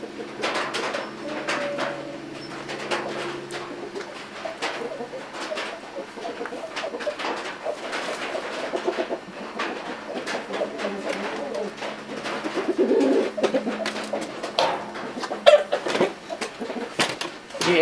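Chickens brought indoors to shelter from flooding cluck and coo softly in a closed room, with scattered scratching and shuffling noises close by and no talking.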